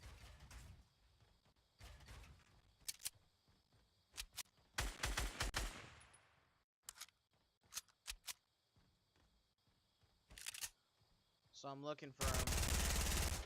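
Fortnite Battle Royale gunfire: repeated short bursts of shots spread through the clip, fairly loud, with a voice talking between them and a loud noisy stretch at the end.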